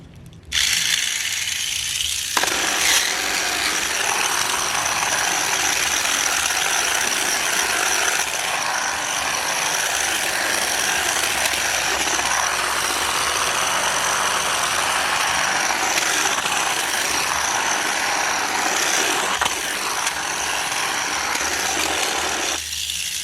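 A Crush Gear toy's small motor and internal gears whir continuously and loudly up close, a steady buzzing grind with slight ratcheting texture that shifts in pitch a few times.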